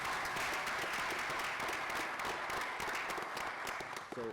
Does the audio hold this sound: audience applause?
yes